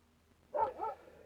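A dog gives a short double bark, a brief burst of two close yaps heard indoors at moderate loudness, with nothing else over it.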